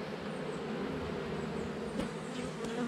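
Honey bees buzz close by during a hive inspection at Acme Fill, a dense, continuous drone that holds steady throughout with a few individual bees passing nearer.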